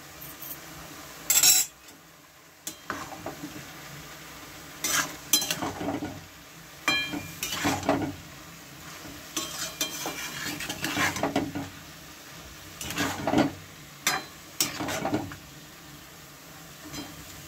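Ash gourd pieces and shrimp stirred in a pan with salt added, giving scattered scraping and clinking strokes of a utensil against the pan over a soft background sizzle, loud bursts spaced irregularly.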